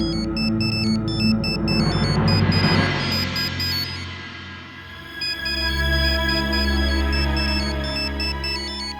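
A phone ringtone plays a looping electronic melody of bright stepped tones, steady and fairly loud, with a brief dip partway through.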